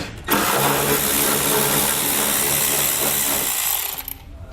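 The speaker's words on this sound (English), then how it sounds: "We're going to need to remove these, so we can grab a 10mm socket and pull them out" A power tool with a 10mm socket whirs loudly and steadily for about four seconds, removing bolts under a 2018 Mercedes-Benz GLC, close and alone.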